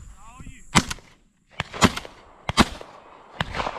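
Shotgun blasts ring out at doves during a hunting season opener in Alabama, four sharp, loud reports spaced about a second apart, each with a short echoing tail, while a person speaks briefly between them.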